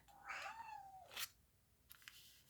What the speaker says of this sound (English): my cat is singing in the background